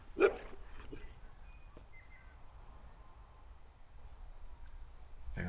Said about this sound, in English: Dog barking. You can hear that one.